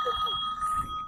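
A phone ringing outdoors with a steady electronic ring tone, moderately loud, mixed with a voice and background noise during trash pickup.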